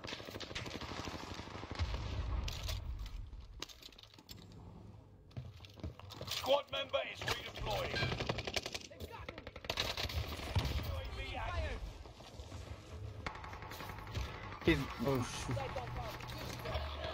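Rapid bursts of gunfire and impacts from a shooter video game, loud and repeated across the stretch, mixed with keyboard clatter while voices talk over the top.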